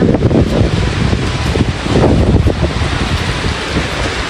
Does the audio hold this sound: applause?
no